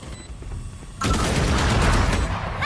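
A grenade goes off in a first-person shooter game after a short quieter stretch, a sudden loud blast that rolls on as a dense, rumbling, crackling roar for over a second.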